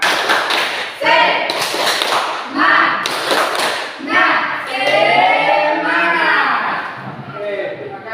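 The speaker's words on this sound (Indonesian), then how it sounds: "Tepuk semangat." A school class does a rhythmic spirit clap: bursts of patterned hand claps and taps in quick groups, mixed with children's voices chanting along, loud and close.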